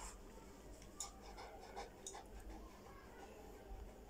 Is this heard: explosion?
no